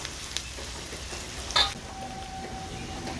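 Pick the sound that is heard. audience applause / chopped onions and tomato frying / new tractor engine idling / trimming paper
chopped onions and tomato frying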